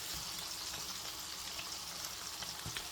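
Hot fat sizzles and spits in a pan on a stovetop while lamb heart and beef kebabs cook, a steady close crackle with a few sharper pops and no talking.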